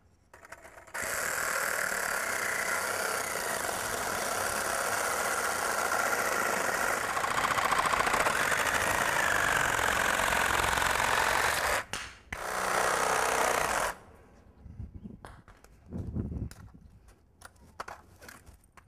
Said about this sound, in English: Now take your sawzall.